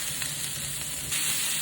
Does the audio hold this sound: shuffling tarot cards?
no